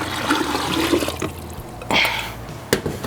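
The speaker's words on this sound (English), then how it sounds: "So now we add the rest of our water" Water poured from a container into a brine mixture, a fairly quiet steady stream with a brief louder splash near the end, no talking.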